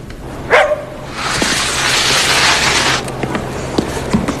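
A dog barks sharply once, close by, followed by a stretch of hissing noise and a few faint clicks and yips.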